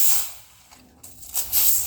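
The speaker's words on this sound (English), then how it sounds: "spray a bit at the ground" A garden hose sprays water at the ground near a horse, a steady close hiss that fades mid-clip and then surges back louder in two bursts.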